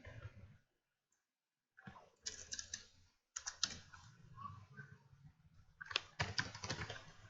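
Computer keyboard typing during a programming lesson: irregular runs of light, close clicking keystrokes with a short pause between bursts, no voices.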